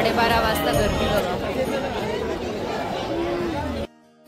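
A busy late-night crowd murmurs at a Ganpati pandal in Mumbai, with loud, close babble of many voices and occasional clinks, then an abrupt cut to near silence.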